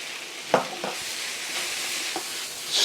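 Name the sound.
stir-frying pork and noodles in a wok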